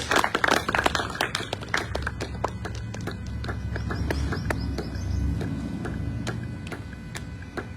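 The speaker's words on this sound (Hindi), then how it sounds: "ताली बजा के सब एक बार अर्नव का अभिनंदन करेंगे जोरदार तालियों के साथ" A small group claps for Arnav, a student at a live workout session. The scattered, uneven hand claps are loudest at first, then thin out into sparse individual claps.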